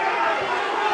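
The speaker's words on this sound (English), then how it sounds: "Crowd absolutely going wild, cheering on Tim Antonio." A crowd at a kickboxing fight between Tim Antonio and Max Webster roars in a steady, dense wall of cheering and chatter that fills the whole moment.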